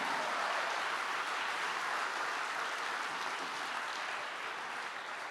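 A church congregation applauds together in sustained, dense clapping that holds steady for several seconds before easing slightly, a broad wash of hands with no speech over it.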